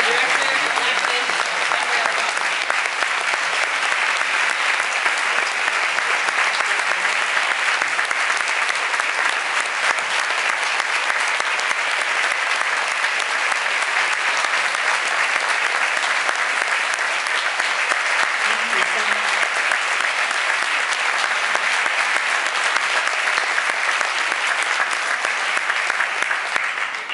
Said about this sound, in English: If you don't mind, another round of applause, please, when we bring back to the stage the director of Blackfish.